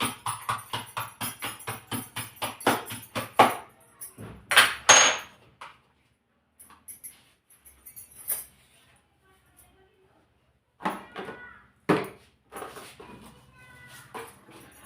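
A knife finely chops garlic on a board in a home kitchen. A quick, even run of sharp taps gives way to scattered knocks and quiet pauses.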